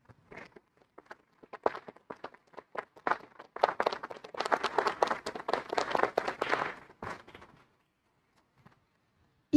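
Scattered claps that swell into fuller audience applause for three panel speakers at a talk, then thin out and stop, leaving near silence at the end.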